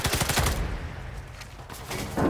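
Sniper Elite 5 gunfire in a flooded village level, a loud close burst of sharp reports at the start fading into a noisy rumbling tail, with another crack at the end.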